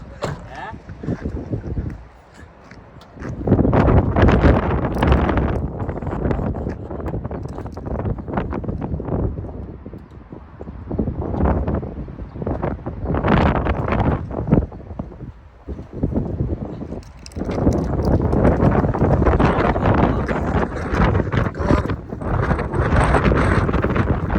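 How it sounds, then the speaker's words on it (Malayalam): Strong wind buffets the microphone outdoors, roaring in long loud gusts that rise and fall across the whole stretch, with brief quieter gaps between bursts. "നല്ല കാറ്റ് കാറ്റ് എന്ന് പറഞ്ഞ കാറ്റ്"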